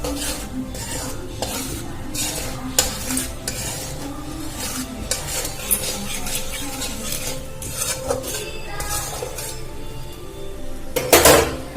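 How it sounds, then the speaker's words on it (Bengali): Asafoetida sizzles in hot ghee in a pan for dhokar dalna, with steady frying hiss broken by repeated spoon stirring and clinks against the pan, ending in a louder scrape near the close. "হিংটা একটু ভেজে নেব।"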